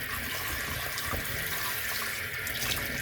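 A kitchen tap runs steadily into the sink while strawberries are gently washed under it, giving a close, continuous splashing hiss with small irregular splatters and no talk.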